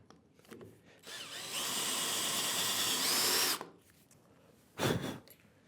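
Power drill boring a counterbore in plywood deep enough for a screw head and washer, a loud steady whine for about two seconds after a brief start, then a short second burst near the end.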